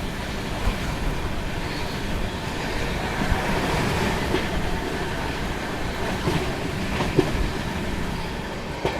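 Passenger train rolling along Indian railway track near Mirzapur during a crossing with the Chambal Express, a loud continuous rumble with clickety-clack wheel rhythm and faint squeals, heard from on board.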